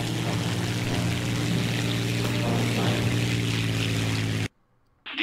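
A War Thunder aircraft engine holds a steady, loud drone as the throttle is increased, then drops out abruptly near the end.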